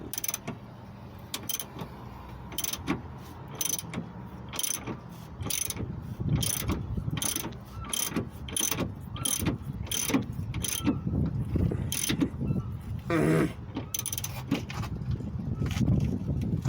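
A ratchet tightens the rear toe link bolt on a Dodge Caliber, a rapid clicking pawl in repeated bursts up close, with faint creaks and mechanical noise throughout.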